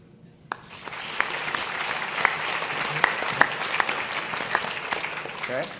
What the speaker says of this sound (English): I would love it if you would respond by a round of applause